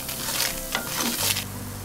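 Coriander seeds and dried red chillies being dry-roasted in a pan, with a soft rustling scrape of stirring over a faint sizzle, close and brief.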